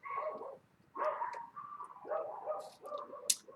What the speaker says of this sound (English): I can hear the dogs going off.